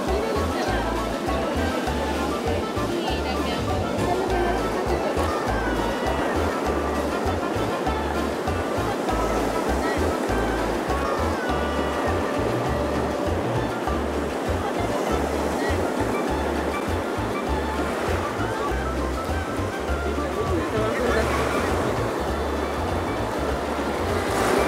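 Continuous surf rushing onto a beach at Tecolutla, Veracruz during a sea turtle release, a loud steady wash of waves with a rhythmic low thumping underneath.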